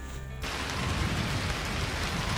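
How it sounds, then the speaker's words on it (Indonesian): Steady heavy, windy rain hisses in after a brief quieter moment, a dense continuous downpour close by on a mountain trail. "lagi-lagi hujan deras mengguyur. Kali ini lebih deras dan berangin."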